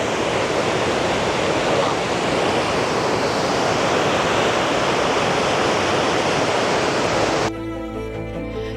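Tahquamenon Falls sends a powerful torrent of amber-colored water crashing down in a loud, unbroken roar that fills the scene, then cuts off abruptly near the end.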